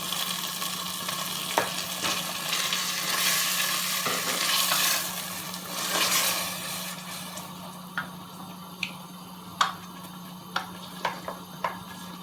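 Tomatoes and garlic frying in a pan, a steady broad sizzle with scraping stirs, thinning out toward the end into sharp, separate utensil clicks and taps against the pan.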